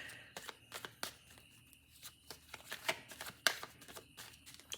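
A deck of cards shuffled close up, a quiet sequence of sharp riffling snaps and soft papery slides at an uneven rhythm, with no talking.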